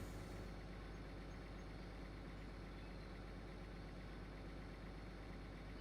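John Deere tractor hitched to a big John Deere planter idling in Farming Simulator 15, a steady, loud, unchanging engine drone that runs alone throughout.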